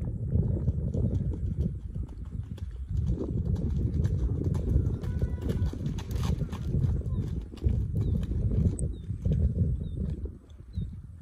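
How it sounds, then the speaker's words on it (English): A horse's hooves clip-clop at a short lope in a steady rolling rhythm, loud and close throughout, with faint bird calls above. "Short loping back."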